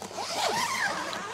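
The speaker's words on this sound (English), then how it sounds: "Let's unzip it." Zipper being pulled open on the storage bag of a Braumach spare tyre, one close, quick rasping zip lasting about a second, with no talking.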